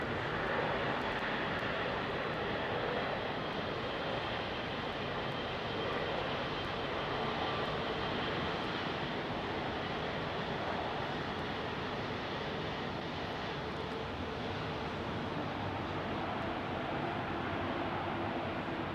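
An FT One Air Boeing 747 freighter departing Heathrow's runway 27R makes a loud, sustained engine roar that stays heavy and broadband throughout, with no voices.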